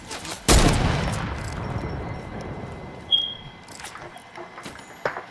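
Sniper rifle fire in Fortnite: one loud, sharp shot near the start with a long decaying tail, followed by fainter, scattered clicks and thumps of game action.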